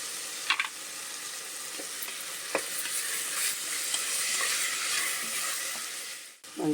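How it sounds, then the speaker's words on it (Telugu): Ginger garlic paste frying in a pan for vegetable biryani, a steady close sizzle with a few sharp scraping stirs and clinks of a spoon against the pan, continuing without speech. "ఇప్పుడు అల్లం వెల్లుల్లి పేస్ట్ ఉంది కదండి, అది వేసాను."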